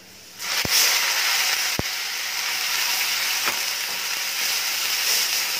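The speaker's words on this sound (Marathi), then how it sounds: "आता हा कांदा जो मी याच्यामध्ये घातलेला आहे हा तेलामध्ये जवळजवळ आपल्याला दहा मिनिट असाच परतत राहायचा आहे" A loud, continuous sizzle of onion paste frying in hot oil for chhole, broken by a couple of sharp clanks from a spoon against the pan.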